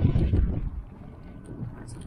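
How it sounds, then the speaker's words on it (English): A cold wind buffets the microphone outdoors in snowy weather by a campervan, a low rumbling gust that is strongest at first and then fades to a softer steady rush. "Cold wind, obviously."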